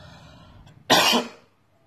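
A single sharp cough up close, following a faint murmur, then quiet.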